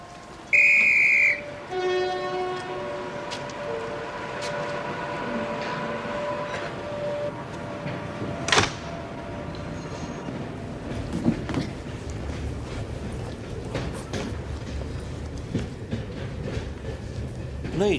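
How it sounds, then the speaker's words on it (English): A passenger train for London pulls into a station platform, opening with a sharp whistle blast and then a low rumbling approach with clanks and brake squeals, while voices speak faintly in the background. "The train approaching platform 5 is the 3:33 for London"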